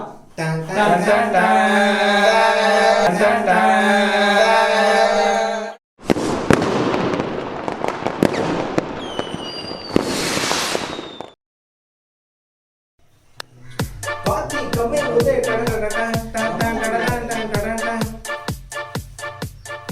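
Diwali firecrackers crackle and pop in rapid bursts with a rising whistle, set between stretches of loud music.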